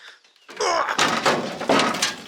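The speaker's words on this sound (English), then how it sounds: "Let's open the hood" An old car's hood is opened with a loud clunk followed by creaking and rattling sheet metal as it is lifted, close by, with a brief bit of movement noise.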